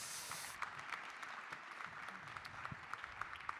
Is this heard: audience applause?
yes